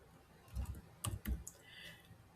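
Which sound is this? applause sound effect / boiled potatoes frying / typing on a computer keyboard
typing on a computer keyboard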